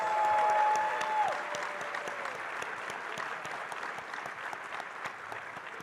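Convention crowd applauding during the opening ceremonies of a furry convention, Midwest FurFest 2021, a dense sustained wash of clapping from a large audience with a brief whistle-like tone near the start, steady throughout.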